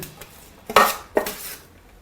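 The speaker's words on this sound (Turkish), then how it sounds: "Sonra bu bütün karışımı güzelce" A utensil knocks and scrapes twice against a bowl while stirring a dough mixture with added oil for baked trança, two brief close clinks over quiet kitchen background.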